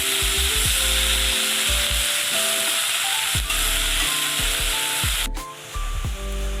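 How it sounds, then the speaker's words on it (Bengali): Small shrimp fry in hot oil, giving a steady close sizzle broken by repeated scraping strokes of a spatula stirring them around the pan, with a sharp clank partway through. "চিংড়িগুলো তেলের ওপরে দিয়ে দিচ্ছি। সব চিংড়িগুলো দিয়ে দিলাম। এবার একটু ভালো করে নেড়ে নেব।"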